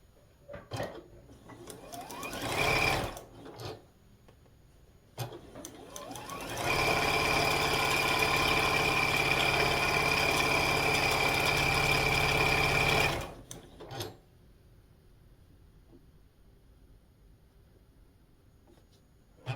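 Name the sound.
sewing machine stitching quilt pieces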